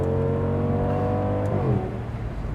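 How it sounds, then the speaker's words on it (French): An Audi S8 V10 engine revs up close with a rising, throaty roar that climbs and then drops away as the revs fall, and no voices are heard. "elle fait un peu un bruit d'R8 V10"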